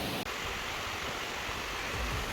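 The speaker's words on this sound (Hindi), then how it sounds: "दरिया के मुसलसल बहते हुए पानी का शोर आपके माइंड और सोल को एकदम फ्रेश कर देता है।" The Kunar river rushes in a constant, even wash of flowing water, close and steady, with no voices.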